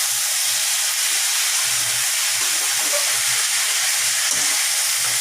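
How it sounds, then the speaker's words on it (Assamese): Loud, dense sizzling hiss of puthi fish tenga, a sour Assamese fish curry, frying and being stirred in a pan, a steady close roar of steam and spitting oil with no voice. "এতিয়া মই আকৌ অকণমান ভাজি লৰাই দিছোঁ"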